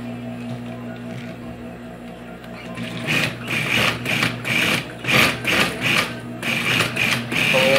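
A sewing machine stitches a decorative seam on a women's handbag, starting after a quiet hum and then running in quick rhythmic bursts of close, loud mechanical clatter.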